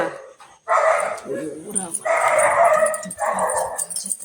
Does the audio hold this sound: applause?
no